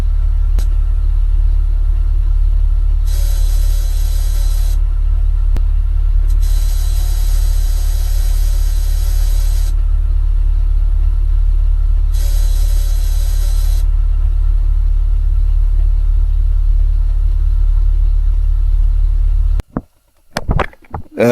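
A car's hot engine idles steadily with a deep, continuous low rumble, joined by bursts of higher hissing noise at intervals, then abrupt clattering handling sounds at the end.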